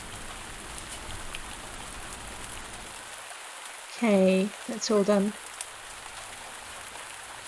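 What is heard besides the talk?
rain in video game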